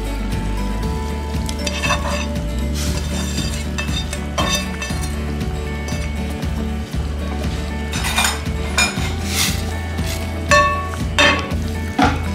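Pork ribs and nopales frying in a pan, a continuous loud sizzle with a spoon stirring and clinking against the pan throughout.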